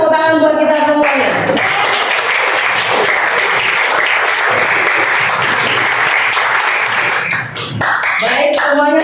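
Classroom of students applauding together in a steady, dense burst of clapping that lasts several seconds, with voices talking at the start and end.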